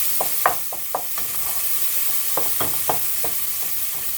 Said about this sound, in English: we're just going to keep mixing it till it's no longer clunky